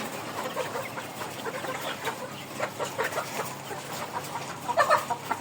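Chicks and chickens cluck in a steady scatter of small calls at moderate distance, with a slightly louder burst near the end and no talking.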